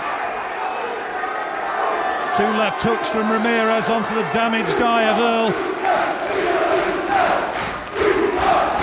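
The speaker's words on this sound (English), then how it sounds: "People are roaring on Graham Earl." Boxing crowd roaring for Luton fighter Graham Earl in his bout against Angel Ramirez, a steady loud arena roar under a commentator's excited voice.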